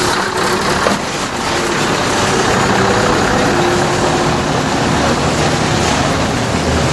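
A car engine idling in Bazar Korgon, Kyrgyzstan, a loud, steady, rumbling drone close by that holds constant throughout, with no talk.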